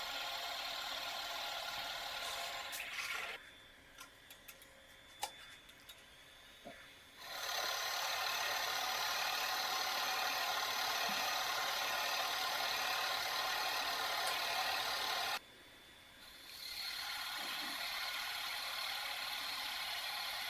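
A wood lathe bores out a hole with progressively larger Forstner bits: steady, loud grinding cutting noise that drops away briefly twice, leaving a quieter mechanical hum before resuming.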